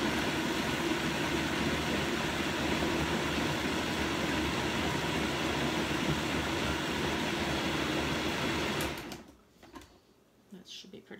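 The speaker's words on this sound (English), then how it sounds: "Then we'll whirl it up in the Vitamix and just get a little loud." A Vitamix blender whirls banana nut muffin batter in a loud, steady, dense roar that holds for about nine seconds, then cuts off abruptly, leaving only faint kitchen clatter.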